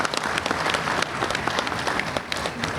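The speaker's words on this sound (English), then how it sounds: "you all deserve a round of applause for supporting this event" An audience applauds at a recognition event, many hands clapping in a dense, continuous patter that stays loud and close for the whole stretch.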